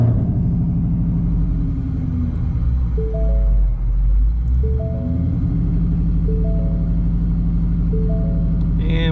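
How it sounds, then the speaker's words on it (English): A 1000 hp 2019 Ford Mustang built for drag racing starts up and settles into a loud, deep, lumpy idle, close by, with a steady low rumble and periodic electronic chimes over it. "So let's start the car up."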